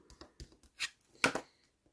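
Paper card for a wedding-themed scrapbooking pop-up card is pressed and creased along its folds, giving a few short, dry rubbing and crackling strokes close up in a quiet room.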